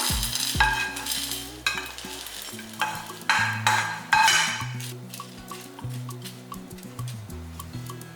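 Spices and curry leaves dry-roasted in a pan for pepper kuzhambu, heard as a close, steady sizzle with repeated scraping and clinking stirs of a ladle against the pan.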